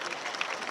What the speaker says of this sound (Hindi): आप हजरात तालियों से उनका स्वागत करें।